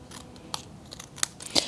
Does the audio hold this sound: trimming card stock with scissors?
yes